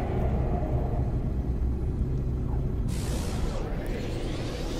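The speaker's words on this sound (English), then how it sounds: "Entering the atmosphere now." A starship in No Man's Sky descends into a stormy planet's atmosphere. A low, steady rumble carries through, and a bright rushing whoosh breaks in partway and then fades, all fairly quiet.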